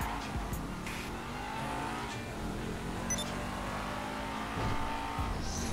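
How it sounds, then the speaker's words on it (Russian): A GTA 5 motorcycle engine drones and revs in the game, with pitch sweeping up and down over a continuous mid-level roar and scattered brief squeals, no speech. "А, это мотоцикл."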